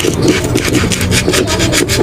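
An electric fan's metal shaft is rubbed with sandpaper by hand, a rapid rhythmic scratchy rasp with repeated back-and-forth strokes, close and fairly loud.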